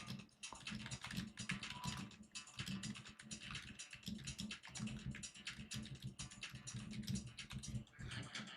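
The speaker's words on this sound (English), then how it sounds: "I'm finishing typing this out." Quiet, steady typing on a computer keyboard, a continuous patter of key clicks with no talking.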